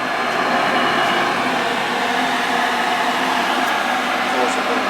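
A Ruud gas furnace that will not fire up runs with a steady, loud whooshing hum of air and motor noise, unbroken throughout with no clear ignition.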